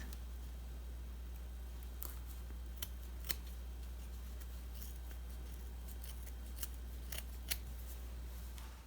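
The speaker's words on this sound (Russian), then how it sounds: "Так, этот канат обрезаю наискосок." Scissors snipping through a rope strand while making a handmade braided bag, a few faint, sparse clicks and cuts scattered over a steady low hum, quiet and close.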